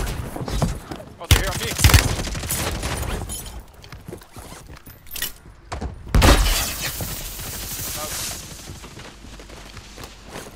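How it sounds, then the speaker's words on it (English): Rapid bursts of gunfire with sharp sniper cracks in the Call of Duty: Warzone battle royale game, loud and close with several distinct bangs spread across the stretch, while players talk over the shooting. "I'm getting sniped at"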